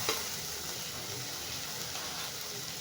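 A spinach stir-fry sizzles steadily in a pan while being stirred, a continuous close hiss with no talk.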